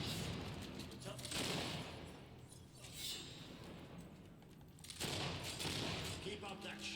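Battle gunfire in Fable 3, a fusillade of shots crackling at moderate distance in repeated bursts, fairly quiet in the mix with a low rumbling bed beneath.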